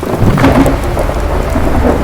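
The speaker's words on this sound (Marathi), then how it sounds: "आमी ट्रेक स्टार्ट करपाक हांगा पावस स्टार्ट जाल्लो आसा." Heavy monsoon rain pours steadily in a forest at Netravali Wildlife Sanctuary in Goa, with a low thunder rumble rolling underneath the dense patter.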